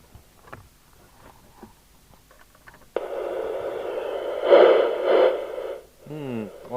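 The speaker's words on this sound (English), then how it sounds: "at the moment the FM hiss sounds right" After a few quiet clicks, a Commtron CB40F FM CB radio tuned to channel 20 on a 13.8-volt supply bursts into a loud, steady broadband hiss that swells twice and drops away near the end.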